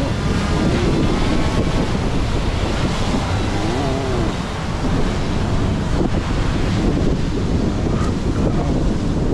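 Strong wind buffets the microphone on a beach at Matatā, New Zealand, mixed with the roar of surf and breaking waves, loud, close and continuous with no voices.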